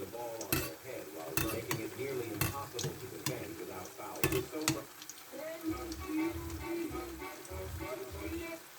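Sweet bonda frying in hot oil, with a soft continuous bubbling sizzle broken by sharp clacks and scrapes as the balls are turned over, plus some faint background murmur.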